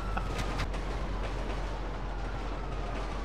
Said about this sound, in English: This train is pushing like four cop cars